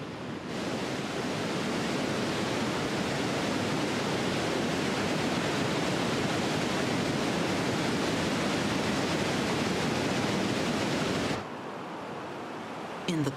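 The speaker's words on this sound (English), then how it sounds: "The volume of water is so much that it creates a rumbling roar." Victoria Falls on the Zambezi River, a huge volume of water plunging down rocky cliffs, gives a steady, loud, broad roaring rush that continues unbroken for about eleven seconds and then drops away to a quieter hiss.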